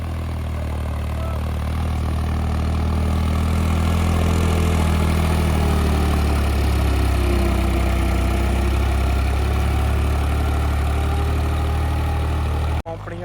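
A 3630 Super tractor engine runs steadily and loudly at close range, a deep idle drone with strong low harmonics holding for about thirteen seconds before cutting off abruptly near the end.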